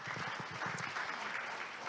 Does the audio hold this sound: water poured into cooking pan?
no